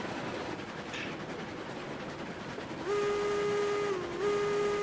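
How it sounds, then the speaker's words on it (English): A steam train whistle in the video game Railroads Online blows steadily after a rumbling start, briefly dipping in pitch before sounding again, with train noise underneath. "Let's hear the whistles."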